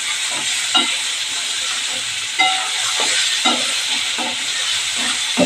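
Onion sautéing in a pan makes a constant loud hiss of frying, punctuated by several thumping scrapes as it is turned, heard up close with no speech.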